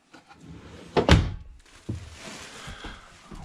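Big drawers beneath the hanging closet of a 2021 Grand Design Reflection 278 BH fifth wheel camper shut with one sharp close thunk, then lighter knocks and sliding rumble, close by with no voices.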